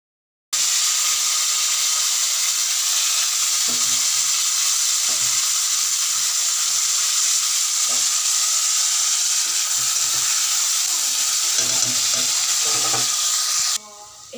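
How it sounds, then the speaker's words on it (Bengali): Potatoes frying in oil in a pan give a steady, loud sizzle that runs unbroken throughout, with occasional faint clinks and stirring noises underneath. "আলুটা ভাজা হয়ে গেছে"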